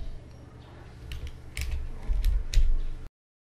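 Clicks of typing on a computer keyboard into a Microsoft Excel sheet, scattered keystrokes growing louder and denser, close up, with no talking.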